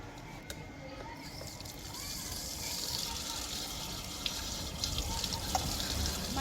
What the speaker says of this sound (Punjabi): ਪਿਆਜ਼ ਇਸ ਤਰ੍ਹਾਂ ਚੰਗੀ ਤਰ੍ਹਾਂ ਧੋ ਲਏ ਆ